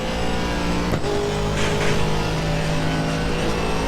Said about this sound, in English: Hear the car just clattering there.